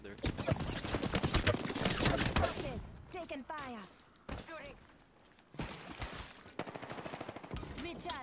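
Apex Legends gunfire comes in rapid automatic bursts: a long loud stream of shots, then shorter volleys after a pause, with clipped game voice lines in the gaps.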